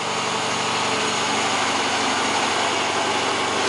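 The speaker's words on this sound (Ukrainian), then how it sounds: "сам газогенератор от, який працює на дровах" A car engine fed by a homemade wood-fired gas generator runs steadily nearby with a dense, unbroken roar that stays even throughout, with no voices.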